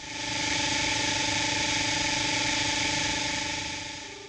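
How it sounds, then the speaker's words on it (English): A RIDGID SeekTech SR-20 line locator emits steady hissing static overlaid with constant electronic tones, swelling in and fading slightly at the end, loud and alone. "When the tracing line is fuzzy, the audio will contain static."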